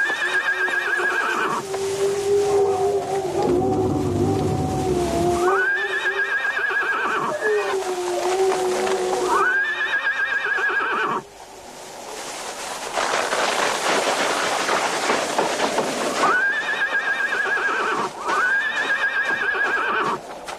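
A horse on a mountain peak whinnies in repeated long, quavering neighs that rise and fall throughout, set against steady rushing background noise and broken in the middle by a brief drop in sound.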